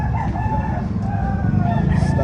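A rooster crows amid the steady din of a busy poultry market expo at Carbon Public Market in Cebu City, the call blending into dense crowd noise and nearby fowl.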